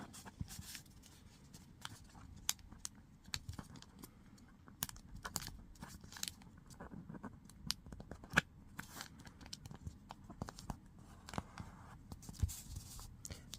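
Paper being creased into an origami kite fold for a dish, a steady run of close, crisp crinkles, taps and sharp creasing clicks, fairly quiet with no voices.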